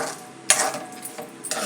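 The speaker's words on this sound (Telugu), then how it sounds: "వడియాలు కూడా వేసేసుకుందాం. వేసుకుని ఒక్కసారి కలిపేయడమే." A spoon scrapes through eggplant curry with fried vadiyalu in a pan, a few close, brisk stirring strokes with soft sizzling underneath and no voices.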